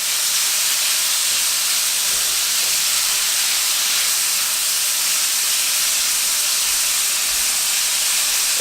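Fajita meat sizzles steadily in a very hot pan, a continuous bright, loud hiss with no break or talk.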